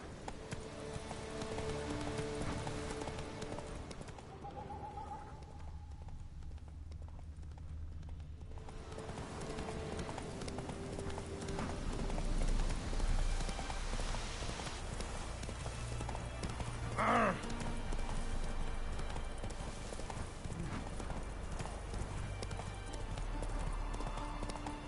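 Hoofbeats of a horse galloping in The Witcher 3: Wild Hunt pound steadily across the whole stretch, with a brief whinny partway through and a busy game soundscape underneath.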